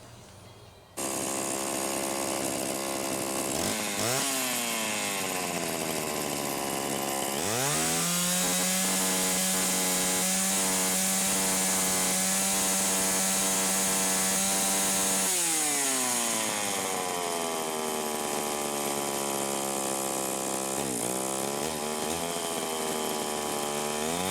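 A Homelite Super XL chainsaw runs close up: it idles steadily, revs up to a loud, sustained high-pitched whine, then drops back to a rough idle with another brief rise near the end.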